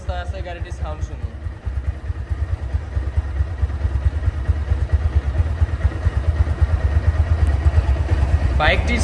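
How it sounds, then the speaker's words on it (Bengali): A running 2023 Honda CB Hornet motorcycle engine idles steadily nearby with a low, even throb, while a voice talks over it. "রানিং অবস্থায় আছে গাড়িটির সাউন্ড শুনুন।"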